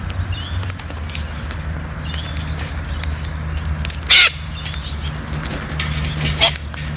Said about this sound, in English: Long-bill Corella.